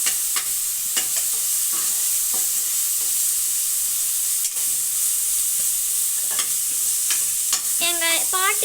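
Onions for chicken (nattu koli) biryani sautéing in a pan, with a steady close sizzle and repeated stirring scrapes across the whole clip, ending with a brief high-pitched squeak.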